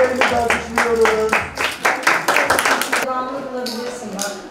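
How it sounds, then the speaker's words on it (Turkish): An audience applauds parents at a Gaziantep school gathering, with a burst of rapid clapping for about three seconds before it thins out and voices carry on underneath. "Velilerimizi alkışlıyoruz."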